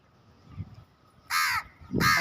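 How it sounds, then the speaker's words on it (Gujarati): Crows gathering near a home courtyard where snacks are scattered for birds, giving two loud, harsh caws in close succession after a quiet, faint background. "અમારે તો કાગડા અને બુલબુલ બધા ખાવા આવી જશે"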